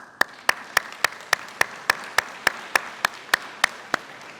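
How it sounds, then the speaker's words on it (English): An audience at a school convocation claps in a quick, steady rhythm, the sharp hand claps falling evenly about every quarter second for several seconds with a light murmur beneath them. "And I'm going to give you another round of applause."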